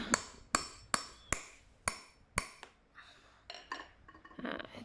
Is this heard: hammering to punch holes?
yes